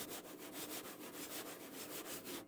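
Rhythmic scratching strokes across a goat skin djembe head, a steady back-and-forth rasp repeating about five times per second, close and fairly quiet.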